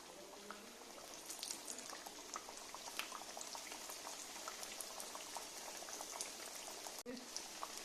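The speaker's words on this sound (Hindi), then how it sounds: "हम इसी तरह सारे तल लेंगे पेटिस" Potato patties shallow-frying in oil over a slow flame give a faint, continuous fine bubbling and crackle, like light rain, with one sharp utensil knock toward the end.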